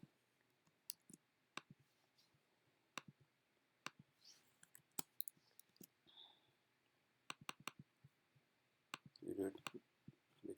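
Sharp, isolated mouse clicks spread across the clip while a query is run on a computer, some in quick pairs, with a brief murmur of talk near the end.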